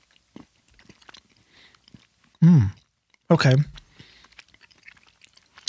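Someone eats a crunchy chocolate bar, compared against a Hershey's bar, with faint close-miked chewing clicks and crunches scattered through the clip. Two short loud vocal bursts stand out, and a brief word is spoken.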